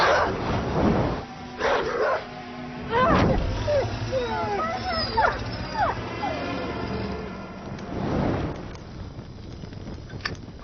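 A dog barks in short bursts of yips and woofs, mid-distance, while people speak over and between the barks.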